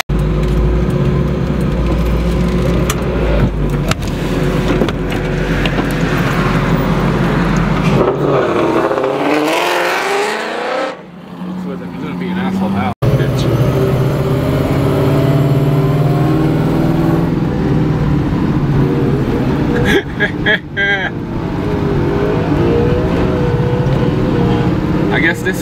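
Car on a long highway road trip from Arizona to Texas, steady engine and road rumble throughout with brief dips around a freeway entrance, voices talking over the drone.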